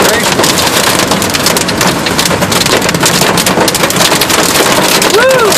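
Hail pounds down during a severe storm in Rowlett, Texas, a loud, dense, continuous roar of hard impacts with no break, and a brief tonal sound near the end.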